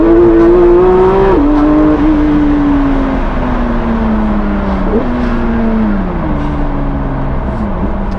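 A race car's engine roars loud and steady from inside the cabin as it accelerates and drives, its droning pitch sliding down and jumping at each gear change, with no break in the sound.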